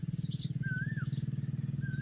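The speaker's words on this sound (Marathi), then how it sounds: "चिमण्यांचा कसा कालवा चाललाय आहे सगळीकडे" Small birds chirp in brief high bursts over a steady, loud low rumble, like a motor or engine running nearby throughout.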